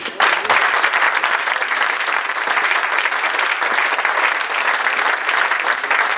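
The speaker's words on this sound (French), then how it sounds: "je crois qu'on peut vraiment applaudir la Maison Le Nôtre" Loud, dense audience applause at the announcement of results for the 2011 Meilleur Ouvrier de France sommellerie competition, sustained and steady throughout after a brief start.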